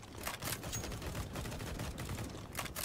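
Gunfire in Counter-Strike: Global Offensive, rapid bursts of shots crackling in quick succession, fairly quiet and a little distant, with a few sharper louder volleys near the end.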